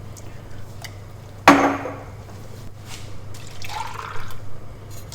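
Tomato-tinged rinse water from tins tips into a pot of soup: a sharp metallic clank, then splashing and gurgling pours that swell and fade near the microphone.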